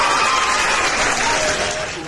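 Applause from a small group during a casual afternoon chat stream, a short burst of clapping that fades out toward the end of the clip.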